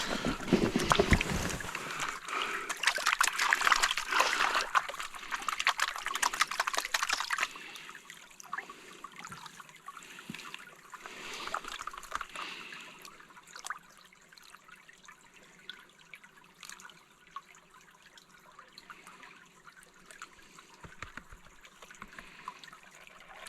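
Water splashing and swirling in a gold pan in Nelson Creek, New Zealand, loud and busy for the first several seconds, then softer trickling and sloshing with scattered drips as the panning slows.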